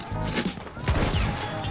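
Gunfire from a Battlefield 1 match, with sharp overlapping shots in a noisy firefight heard close and loud against constant battlefield ambience.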